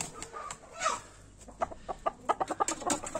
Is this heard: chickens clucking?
yes